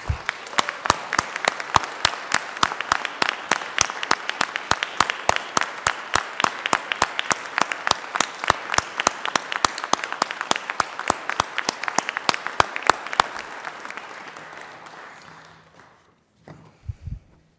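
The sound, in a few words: audience applause in the state senate chamber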